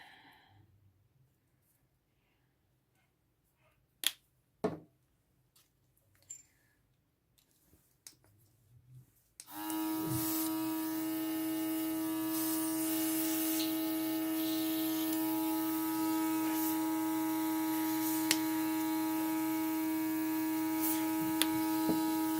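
An airbrush runs during cleaning after a few quiet clicks and handling noises, then switches on to a loud, steady hiss with a pronounced tonal hum that continues unbroken to the end.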